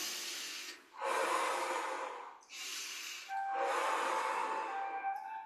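Deep, slow breaths drawn in through the nose during a seated qigong exercise, three long airy inhalations separated by short pauses, close and soft, with no talking.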